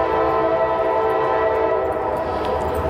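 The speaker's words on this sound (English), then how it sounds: "The train's coming through" A train rumbles past close by, a loud continuous roar with sustained tonal hum throughout, no voices.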